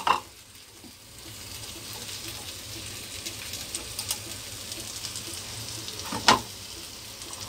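French fries sizzling steadily in hot frying oil for a spinach and kofta sandwich, with a constant crackling hiss and a few sharp clinks of a utensil against the pan.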